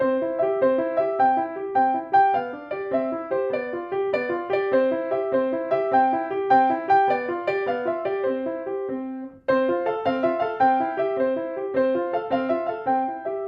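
A quick, bouncy piano piece played in a swinging rhythm, steady chords and running notes with a brief pause before the pattern resumes.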